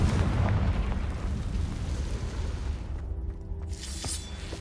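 A Confringo blasting spell explodes in Hogwarts Legacy, a dense rumbling boom and crackle that fills the clip, loud and sustained, with a brief shattering burst near the end.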